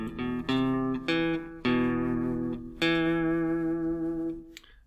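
Electric guitar plays a tune as a sequence of sustained, clean melody notes bent with a vibrato bar, each note struck and left to ring with a wavering pitch before the next, and no voices.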